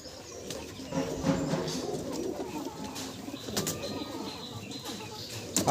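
Madrasi pigeons coo softly and continuously at a loft, a low murmuring chorus with faint chirps and brief wing flutters scattered through.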